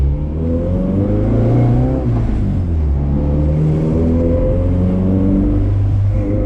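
A Honda Civic EG with a freshly installed clutch revs hard as it pulls onto a highway, its engine note climbing steadily and loud up close with a constant rumble and no talk.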